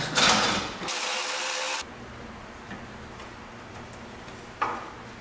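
Bolts are driven into a car's front core support with a mechanical tool: a loud, rapid ratcheting burst, then a second sustained run ending near two seconds, followed by a quieter stretch and one short clack near the end.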